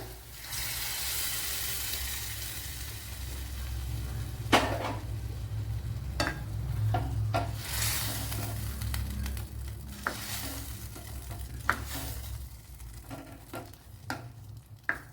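Cooked lentils splash into a sizzling pan for a Sadya-style parippu curry and are stirred, giving a steady close frying hiss with scattered scraping and clinking strokes of the utensil and no talking.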